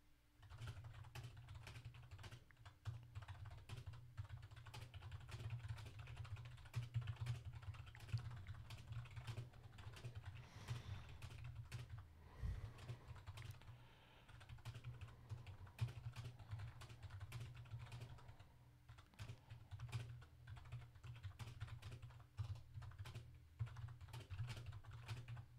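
Steady, rapid typing on a computer keyboard during a typing skill test, with many quick key clicks in a continuous stream and no talking, heard up close.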